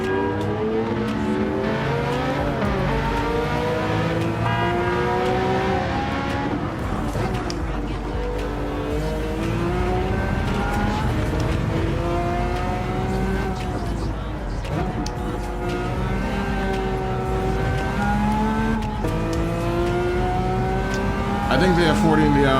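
Ferrari F40 and Lamborghini racing in Gran Turismo 7, loud layered engine notes climbing and dropping through shifts and acceleration, with a voice talking over the racing throughout.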